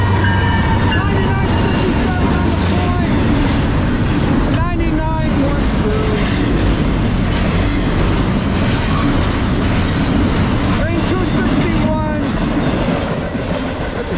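A long Norfolk Southern freight train with two Dash 9-44CW diesel locomotives rumbles past close by in Edison, New Jersey, steady and loud, with rhythmic clacking of wheels over rail joints and some metallic squeal.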